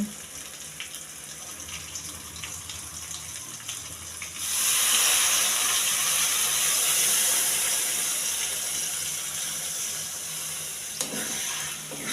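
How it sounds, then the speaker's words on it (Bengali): Water pours into a pot of browned chicken for palak chicken, a broad steady gush that starts abruptly and runs on loudly without pause, with no talk over it. "চিকেনটা কষে এসছে, এবার জল দিয়ে নেব।"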